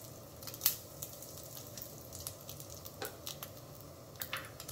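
Panch phoron whole spices crackling in hot oil, faint scattered pops and sizzles over a low steady hiss, close and quiet.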